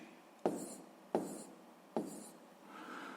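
Pen strokes on paper while writing numbers by hand, three short scratchy bursts about a second apart, quiet and close with no talk.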